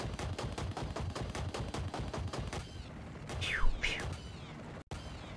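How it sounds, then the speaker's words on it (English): Gunfire in Battlefield: Bad Company comes as a fast, evenly spaced burst of shots for a few seconds, then stops, leaving a couple of swooping whooshes and a brief cut near the end. "Gun sounds weak."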